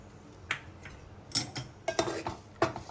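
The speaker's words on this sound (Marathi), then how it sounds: "आणि पीठ चांगलं घोटवून घ्यायचं" Rice flour being stirred into boiling water in a pot, a few close, sharp utensil knocks and scrapes against the pot at irregular intervals, with no talking.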